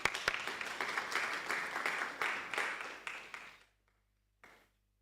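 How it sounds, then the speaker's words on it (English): Audience applause at a campus safety launch event, a steady wash of clapping that rises quickly, holds, and fades out, with one short burst of claps after it. "May we give him a tremendous round of applause."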